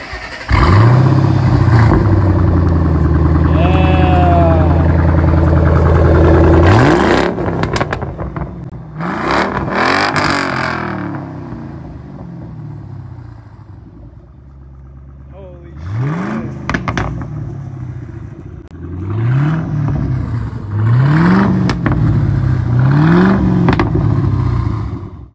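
A car with an aftermarket exhaust revs hard on a Denver street, its engine climbing in repeated rising pulls, then dropping away before several more short blips, loud and close, with some talk in between.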